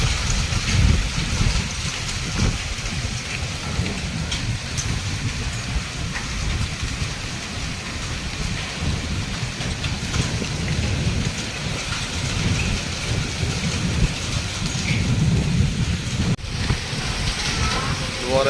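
Heavy rain with hail pounds down during a violent storm, a dense, steady roar of falling water and ice with no letup, and distant thunder rumbling faintly underneath.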